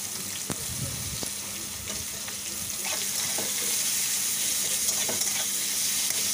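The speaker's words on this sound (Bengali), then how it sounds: "ফোড়নটা হয়ে এলে ওর মধ্যেই দিয়ে দেব কিছুটা কেটে রাখা পেঁয়াজ" Chopped onions dropped into oil tempered with dried red chillies, bay leaf and cumin, giving a bright, steady sizzle with scattered stirring clicks, close and consistent throughout.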